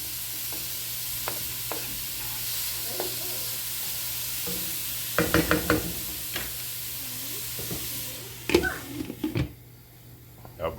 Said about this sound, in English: onions are cooking down. Get a little stir. So they don't stick to the pan.